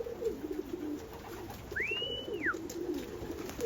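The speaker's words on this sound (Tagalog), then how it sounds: "Mga ibon ko." Racing pigeons, recovering from a respiratory problem, give soft, low, repeated coos close by, with a brief rising-and-falling whistle partway through.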